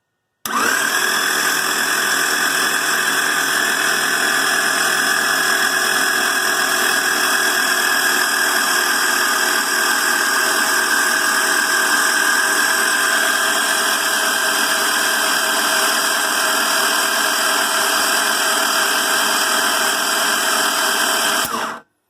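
A Nissan L28 turbo engine cranks over dry with its spark plugs removed and nothing connected. The starter whirs as one steady, loud, unbroken drone lasting about twenty seconds, then cuts off abruptly.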